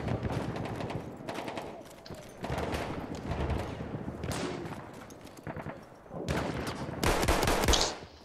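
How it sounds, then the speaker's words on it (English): Shotgun blasts and other gunfire in a Battlefield 1 team deathmatch: loud, booming shots in irregular clusters, some close and sharp, others overlapping in dense bursts of combat noise. "Again with the shotgun, man."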